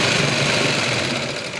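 A sewing machine runs steadily, stitching along the neckline of a garment, a close, continuous mechanical whirring with no pauses.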